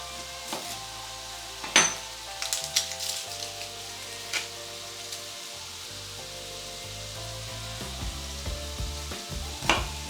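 Steady sizzling of nduja meatballs browning in a pan, with occasional sharper crackles and faint clinks of utensils, close and continuous throughout.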